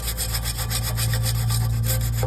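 A brush scrubs dirt off the fins of an air-conditioner blower wheel in rapid, rhythmic strokes, loud and close, over a continuous low mechanical hum.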